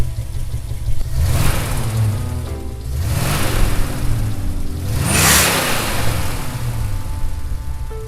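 An AMC AMX with the 390 engine, rated at 315 horsepower, revs loudly three times in quick succession, each burst climbing in pitch before easing back to a rumbling idle close by.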